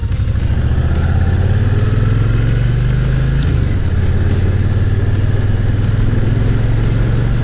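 A stock Kawasaki Vulcan Nomad cruiser's engine drones loudly and steadily while riding, a deep continuous rumble with a slight pitch shift midway.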